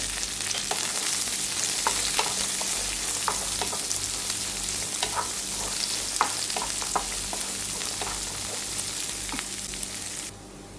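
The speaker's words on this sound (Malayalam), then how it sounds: "ഇതിനോടൊപ്പം തന്നെ നമ്മുടെ കൊച്ചുള്ളിയും പച്ചമുളകും ഇട്ട് കൊടുക്കുകയാണ്" Shallots and green chilies sizzle steadily in a hot pan with oil, a dense continuous frying hiss broken by small crackles and pops, close and fairly loud, with no voices.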